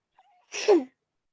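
A single short sneeze, close and fairly loud, preceded by a faint intake of breath, with silence around it.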